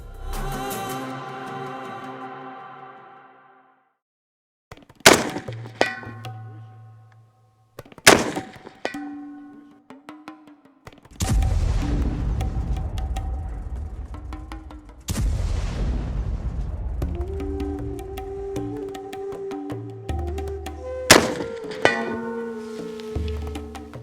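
Several loud M14 rifle gunshots ring out one by one at irregular intervals, each with a sharp crack and a long echoing tail, with no voices.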